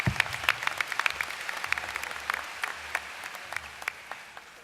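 A university business school commencement audience claps for the keynote speaker, with individual sharp claps standing out over a steady patter that slowly thins and quiets.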